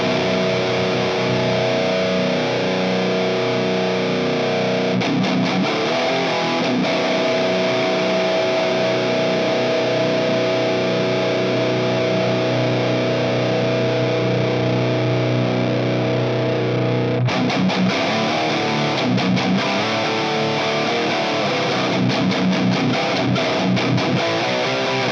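Heavily distorted metal guitar riffing through a Donner Arena 2000 multi-effects unit with a U47 amp setting, chugging palm-muted chords played continuously and loud, cut briefly by a gated pause near the end.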